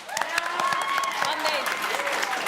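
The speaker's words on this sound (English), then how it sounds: "let's give a round of applause for yourselves." An audience applauds at a main stage show, steady clapping running throughout while a voice speaks briefly over it.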